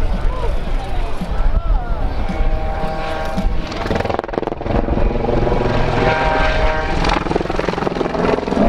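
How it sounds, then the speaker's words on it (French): A loud helicopter roars continuously at an air show, its rotor and engine pitch shifting as it performs an aerobatic dive and turn, with a voice speaking French over the noise. "Et vous allez voir l'excellente maniabilité de cet hélicoptère."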